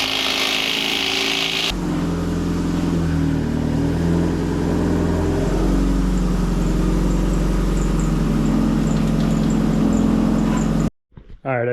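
A Toyota Celica engine with a freshly repaired exhaust runs steadily and loudly up close, a low continuous rumble that holds for about ten seconds before cutting off abruptly near the end.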